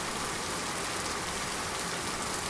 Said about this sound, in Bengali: অনেকক্ষণ ধরে বৃষ্টিটা হয়েই চলেছে, কোনো মতে থামছেই না।